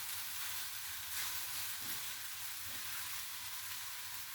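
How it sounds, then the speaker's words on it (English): Chopped egg is stir-fried back into fried rice with sesame oil in a hot pan, giving a soft, steady sizzle with faint stirring sounds and no voices. "I'm going to cut up my egg and add that back in. Get that stir fried right back in there."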